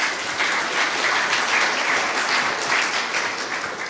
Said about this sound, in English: if we can get a round of applause